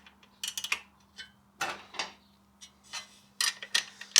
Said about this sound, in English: so now I'm going to get a ratchet spanner in behind that